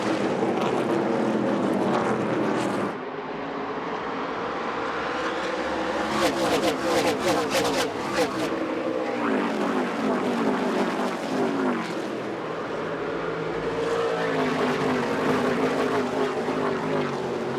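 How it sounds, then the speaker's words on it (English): ARCA stock cars race on a short track, engines roaring loudly as a pack passes and fades, with repeated swells of engine noise under a race commentator's voice. "Such a different sound, Jim, when these ARCA stock cars get on a track this size"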